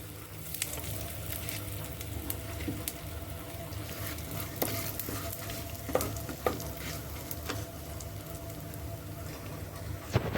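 Asafoetida sizzling in hot oil in a pan while cooking a pumpkin roghan josh, a steady crackling fry with occasional stirring clinks, close and continuous with no talk.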